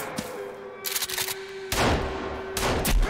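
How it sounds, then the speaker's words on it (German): Gunfire from a shotgun in the survival video game Sons of the Forest: several loud, sharp blasts in quick bursts, one around the middle and another near the end, with a steady tone underneath between shots. "Digga, der ist nicht durch den Shotgun-Schuss down gegangen?"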